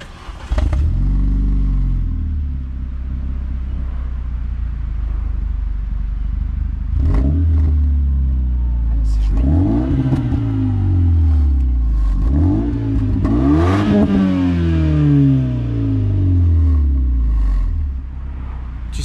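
A car engine fitted with a custom-made rear exhaust silencer revs hard several times, with rising and falling sweeps and a crackling exhaust note, loud and close, without speech.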